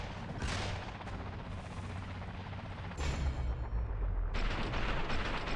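Gunfire in the PS2 game 007: Quantum of Solace, bursts of loud close shots with heavy low rumble, a sharp volley early, another strong burst near three seconds and more firing toward the end.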